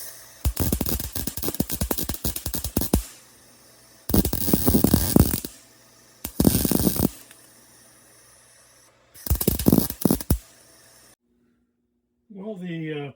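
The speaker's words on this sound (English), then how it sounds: "I'm switching from the TIG welder to the MIG welder." MIG welding on a drive dog for a marine gear pump rebuild, with four separate bursts of crackling, sizzling arc noise of a few seconds each, separated by short pauses, close and fairly loud, and a brief quiet tonal sound at the end.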